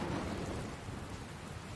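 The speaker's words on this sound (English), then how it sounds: "Looks like there's another storm rolling in." Thunderstorm in the video game Dragon Quest Builders 2, with heavy steady rain and a deep rolling thunder rumble in the first moments, a brief continuous storm bed with no speech.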